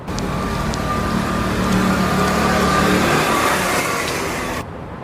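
Motorcycle engine revving in an action war film scene, a loud, sustained mid-pitched engine drone that holds steady for several seconds before cutting off abruptly near the end.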